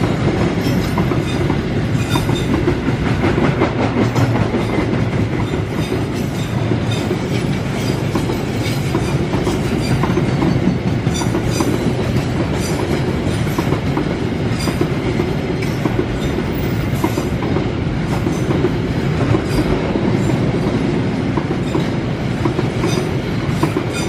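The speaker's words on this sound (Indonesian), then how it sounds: "Alhamdulillah dapat 2 kereta di sini." A train hauled by a vintage locomotive rumbles past close by in Sumatra, a loud continuous roar with rhythmic clattering of wheels over rail joints and faint metallic squeals.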